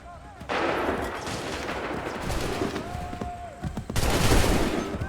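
Musket volleys boom in the Assassin's Creed III video game, a loud burst of massed gunfire early on and another near the end, with a sustained rumble and crackle between them.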